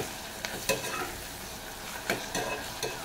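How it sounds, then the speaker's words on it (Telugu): Tomatoes, green chillies and curry leaves sauté in a pan for a goat leg curry, giving a steady sizzle broken by a few sharp scraping strokes of stirring. "టమాటాలు, పచ్చిమిరపకాయలు, కరివేపాకు. ఇవి బాగా మగ్గాలి."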